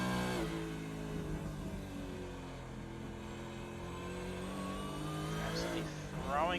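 A Supercars race car engine roars in an iRacing race at Winton Motor Raceway, a loud sustained high-revving drone with rising and falling pitch through gear changes, under commentator talk.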